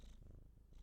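A pet cat purrs close by, a soft, low, rapid rumble that pulses steadily for under a second with no talking.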